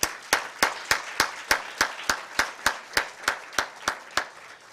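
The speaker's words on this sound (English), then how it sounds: "let's just give a round of applause to our panelists" Panelists at an ACW 2023 session on livelihoods and a just transition are met with steady, evenly spaced handclaps, about fifteen sharp claps at a regular rhythm, moderately faint in a quiet room.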